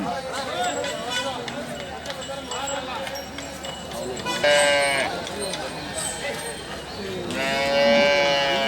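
Cows moo at the Ranebennur cattle market on a Sunday morning, with several loud, close, drawn-out calls over busy background chatter and people talking nearby.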